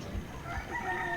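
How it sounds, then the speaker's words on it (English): A rooster crows, a faint, drawn-out call rising and holding, with low background noise in a rural setting in Pakistan. "There goes Limbo Chicken"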